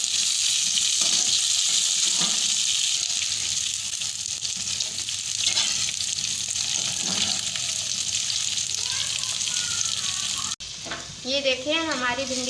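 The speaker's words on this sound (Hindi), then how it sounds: "अब थोड़ा थोड़ा सा हम इसे भी प्याज के साथ फ्राई कर लेंगे।" Okra fries with onions in a pan for dhaba-style masala bhindi, giving a loud, continuous sizzle and hiss with occasional stirring scrapes. A voice speaks briefly at the very end.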